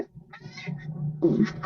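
A pet cat meows in a few short, fairly close calls over a low indoor hum, with no talking.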